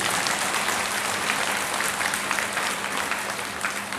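Devotees at a religious gathering with a Hindu monk clap together in a dense, continuous burst of applause from a crowd, loud and steady, easing off slightly at the close with no voices over it.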